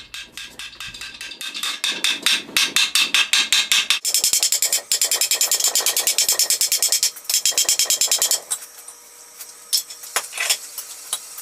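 A metal wagon wheel band is hammered round on a mandrel, with loud, close, rapid ringing blows in fast rhythmic runs, short pauses between bursts, and a few scattered strikes near the end.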